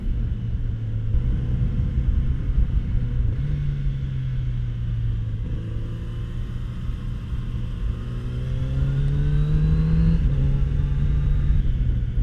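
A Kawasaki Z900RS Cafe motorcycle engine drones steadily up close, its pitch stepping up several times as the rider downshifts, over a constant rumbling wind-and-road bed with no speech.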